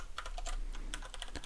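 A password is typed on a computer keyboard as a quick, close run of light key clicks lasting just over a second, with no talking.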